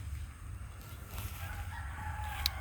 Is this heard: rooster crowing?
yes